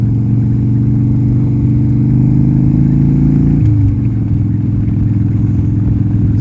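A 1987 Harley-Davidson FXRC motorcycle engine cruising at about 30 mph, a loud steady low rumble with a slight pitch shift midway as the throttle changes, wind noise alongside, no talking.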